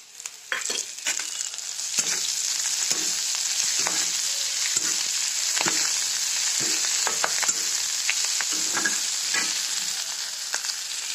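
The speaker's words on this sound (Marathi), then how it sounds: "आता हे कांदे चांगले भाजले, ह्याच्यामध्ये मेथी आणि कोथिंबीर टाकली" Onions frying in a pan with fenugreek leaves and coriander, a steady close sizzle with scattered crackles and the clack of stirring throughout, no talk.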